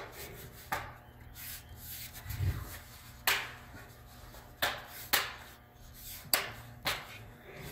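ASUS TUF laptop bottom cover being snapped back into place, a series of sharp plastic clicks and snaps spaced irregularly, close by over faint rubbing and handling noise.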